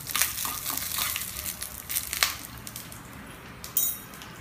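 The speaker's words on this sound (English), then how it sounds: "Allow these to fry well till the urad dal becomes" Urad dal frying in hot oil in a pan for a South Indian dish, giving a close, continuous crackling sizzle with scattered sharper pops and a louder burst of spitting near the end.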